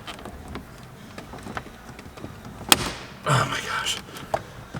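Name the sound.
plastic dash bezel cracking as it is pried off a Hellcat Charger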